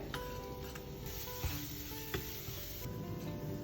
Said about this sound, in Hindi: ये मेरे पास अदरक है, लहसुन है जो बारीक कट किया हुआ है, मैं वो डाल रही हूँ।